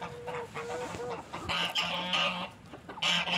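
Chickens clucking softly nearby in short bursts as they eat granulated feed, with a low steady background murmur of a farmyard.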